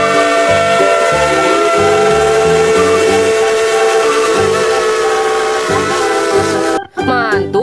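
A sustained steam-style whistle tone from a toy locomotive sounds loudly over a repetitive chugging toy train rhythm, ending with a brief clattering shift.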